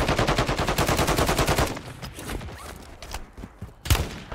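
Gunfire in the Warzone 3.0 shooter game: a fast, loud burst of automatic fire for under two seconds, then scattered quieter shots and one sharp close shot near the end, with no talking.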